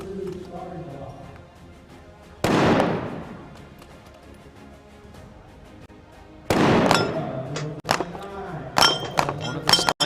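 Sniper rifle shots at a SWAT challenge competition, two sharp cracks several seconds apart followed by a cluster of quicker metallic impacts and clinks near the end, heard at a distance.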